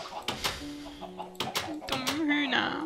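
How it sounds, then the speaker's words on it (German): Chickens cluck in the Minecraft video game, giving short tonal squawks and clucks mixed with bright clicking game sounds at moderate volume. "Dumme Hühner."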